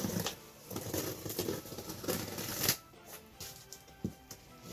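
A stapled cardboard box for a CVR 3002 amplifier is sliced open, a dense rustling, scraping cut followed by a quieter pause and a couple of soft knocks, no speech.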